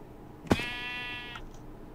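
One Minecraft sheep gives a single wavering bleat after a brief click, close and clear over a quiet game background.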